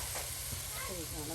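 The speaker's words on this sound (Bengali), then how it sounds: "এই যে এখন কিন্তু মাছের মাথাগুলো দিয়ে দেওয়া হচ্ছে।" Large rohu fish heads go into hot, sizzling spice paste for a bottle gourd curry, making a loud, close, continuous hiss and sputter, with a voice faintly present beneath it.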